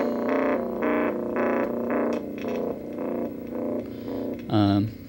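An electric guitar runs through a homemade 555 autowah filter pedal with distortion engaged, repeated distorted notes sweeping in a rhythmic wah pulse, loud and close, with a brighter final strum.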